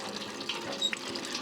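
Water from a pump splashes steadily, a continuous close hiss and patter with small bright drips, at moderate volume and with no talking.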